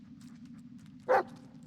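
A dog in the Blair Witch video game gives a single short bark over a low steady hum, fairly faint and alone.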